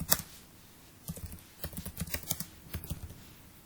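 Quiet typing on a computer keyboard into notepad, a loose run of soft key taps clustered in quick bursts, close and fairly faint.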